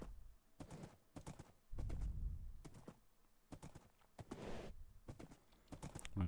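A horse in the modded Minecraft world trots along with light, hollow clip-clop hoofbeats in irregular bursts, fairly close and quiet, with the player's voice heard briefly between steps.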